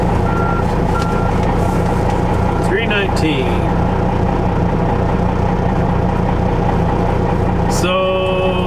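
A gravel-hauling truck engine idles with a low rumble while intermittent reversing beeps sound, and a voice briefly speaks over the steady engine noise.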